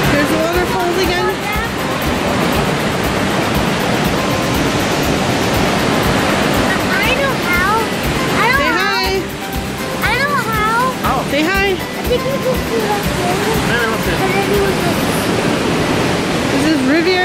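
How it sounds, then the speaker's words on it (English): Waterfall at the top of the falls at Rivière-du-Loup, Quebec, a loud unbroken roar of rushing water filling the whole stretch while voices, including a child's, talk over it. "At the waterfall! We're at the top part of the waterfall. There's water rushing by."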